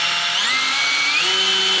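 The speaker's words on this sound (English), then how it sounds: "Let's go ahead and drill that hole." A power drill bores a hole through sheet metal, its high whining motor steady and close, with pitch rising slightly partway through as the bit bites.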